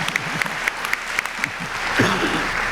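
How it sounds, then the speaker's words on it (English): Audience clapping at a 2024 commencement ceremony for the graduates, a moderate scattered applause with distinct individual claps, running under a speaking voice. "You're clapping for you."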